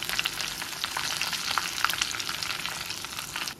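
Crushed shallots and curry leaves frying in hot oil in a pan, a steady close crackling sizzle with bright spits and pops running throughout, no voices.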